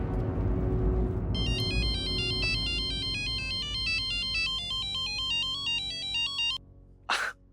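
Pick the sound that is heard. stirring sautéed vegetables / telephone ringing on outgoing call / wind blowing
telephone ringing on outgoing call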